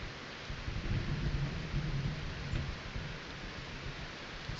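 Thunder during a storm in a multiplayer PVE game, a low sustained rumble that swells and fades over steady rain-like hiss, heard with no talking.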